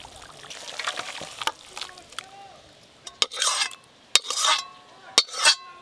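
Cooked oily hilsa fish curry (tel ilish) is poured and scraped from a pan in a home kitchen, giving wet glugs and splashy pours among sharp metal clinks of utensil on pan, fairly close, with a voice talking faintly early on.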